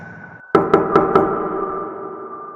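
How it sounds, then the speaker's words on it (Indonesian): Four sharp knocks on a door rap out in quick succession over a low sustained tone, a horror-story sound effect, loud and close, with no voices. "tapi ketukan itu semakin keras."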